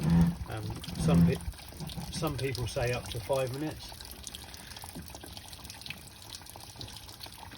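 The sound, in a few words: water flushing out of a hot tub hose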